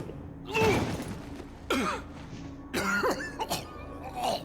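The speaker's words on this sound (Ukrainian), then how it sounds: "він теж кашляє, бачите, як я" A Resident Evil 4 character coughs in short harsh bursts, three or four fits spaced across the clip, fairly close and clear against a quiet background.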